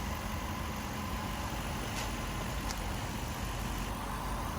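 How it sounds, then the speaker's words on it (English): A 1998 Lexus SC400 engine idles after a cold start with the hood open, a smooth, quiet, steady hum that holds evenly without any revving. "You can barely hear the engine, it's so smooth and quiet."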